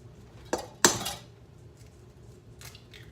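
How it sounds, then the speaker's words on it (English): Eggs cracked against a bowl rim in a home kitchen, two sharp close knocks followed by a fainter tap, alone with no talk. "Let's go ahead and crack our eggs and put those in."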